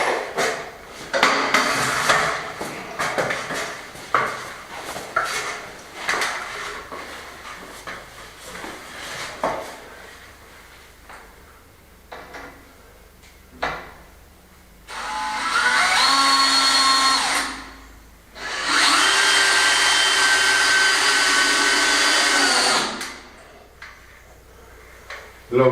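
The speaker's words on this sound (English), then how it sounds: "So we'll see if we can get some screws in here." Screws being driven into wood with a power driver during renovation of a 150-year-old building: scattered knocks and handling clatter, then two long, loud, steady whirring bursts of the driver running nearby.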